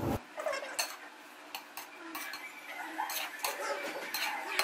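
Moti pulao, rice cooked with small chicken meatballs, is dished out of a pot with soft scraping and light clinks of a spoon against the metal pot, close and fairly quiet.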